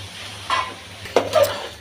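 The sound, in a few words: rice and carrots frying in oil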